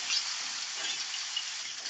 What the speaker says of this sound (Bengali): সব মাছগুলো উল্টে দিলাম, ঠিক একইভাবে উল্টো সাইডটাও ভেজে নেব।